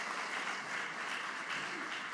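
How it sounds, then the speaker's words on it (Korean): A church congregation in Bucheon applauds at a Sunday service scholarship presentation, dense steady clapping from many hands, sustained and fairly loud across the whole moment. "큰 박수로 축하해 주시기 바랍니다."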